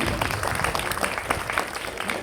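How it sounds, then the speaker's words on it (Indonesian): Audience applause at a Quran memorization gathering at an Islamic boarding school, a steady dense wash of clapping filling the short stretch with no speech over it. "Tepuk tangan dong."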